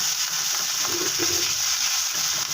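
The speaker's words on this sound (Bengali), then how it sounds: "এখানে সরিষা আছে, সরিষাটাও ভেজে নেব।" Ground mustard paste frying in a pan for a salted hilsa and taro stolon curry: a continuous close, hissing sizzle that stays loud and steady, with faint scraping and no talking.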